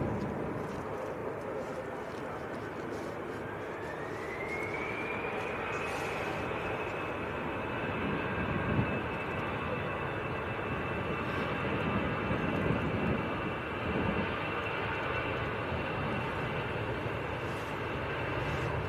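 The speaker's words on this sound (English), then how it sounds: "Airbus A320. India Zulu Fox is the Austrian registration on this EasyJet." An EasyJet Airbus A320 bound for Milan at Manchester Airport roars steadily, a rising engine whine climbing then holding a high tone over broad rumble, with voices talking throughout.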